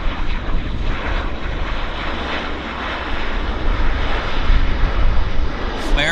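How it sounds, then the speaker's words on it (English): A Boeing 787 Dreamliner airliner taxiing to the gate at Vancouver Airport, its engines giving a loud, continuous broadband roar that swells slightly toward the end. "there's our Dreamliner taxiing to the gate"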